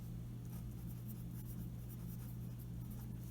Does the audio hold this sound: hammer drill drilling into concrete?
no